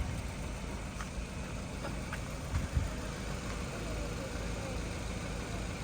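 A car engine idling in neutral on a road on Samal Island, a steady low rumble throughout with a couple of faint clicks and one soft thump, close and continuous.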